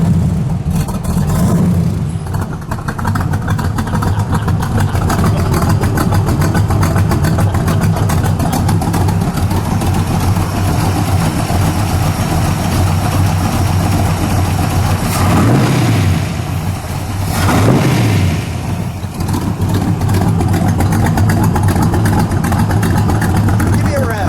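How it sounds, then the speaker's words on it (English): A 1940 LaSalle business coupe racecar engine runs loud and close, idling with a heavy low rumble and swelling in a couple of rev blips, with voices talking over it. "Give me a rev. What a sound."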